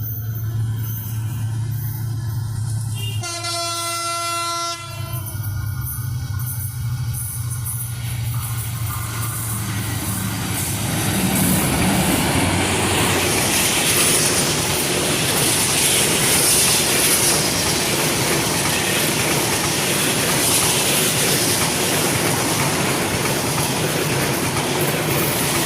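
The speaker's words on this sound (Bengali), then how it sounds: "আপনারা যে স্টেশনটি দেখছেন, এটির নাম হচ্ছে ভাঙ্গুরা রেলওয়ে স্টেশন।" A train rumbles through Bhangura railway station in Bangladesh, with a loud horn blast early on, then a steady, building roar of wheels clattering and squealing on the rails nearby.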